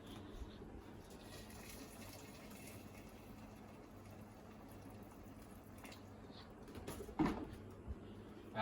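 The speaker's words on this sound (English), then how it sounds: "Now what we need to do is add more water to actually cover that." Water is poured into a pot of beef soup with potatoes and corn, a faint steady splashing and trickle heard alone, ending in a few louder clunks.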